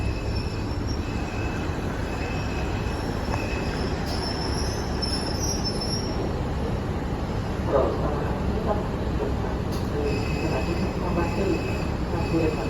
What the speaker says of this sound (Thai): มาแล้วครับผมขบวนที่สองหนึ่งสองนะฮะ